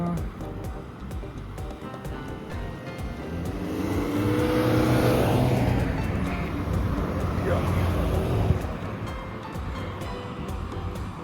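A vehicle passes on a road near a rock-climbing centre, its engine noise swelling to a peak and then fading, heard under nearby talking.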